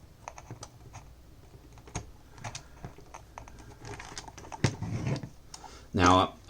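A Game Boy DMG-01 running on AA NiMH rechargeable batteries gives scattered small clicks as its power switch is pushed, close and light, with a short louder burst near the end.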